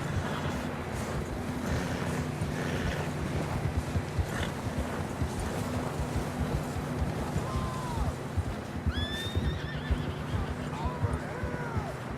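Horses whinny repeatedly in Red Dead Redemption 2, shrill neighs rising over a constant thud of galloping hooves and wind rushing past, with voices calling out in between.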